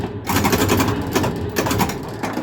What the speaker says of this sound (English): Pop bumpers are working awesome.